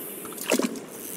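A fishing cast in the Len's Island video game lands with a brief soft splash and plop into water, set against a steady airy ambient wash.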